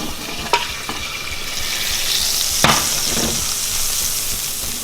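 Beef for stroganoff sizzles steadily in a hot pan, with a few sharp clinks and scrapes of stirring cutting through the close, continuous frying hiss.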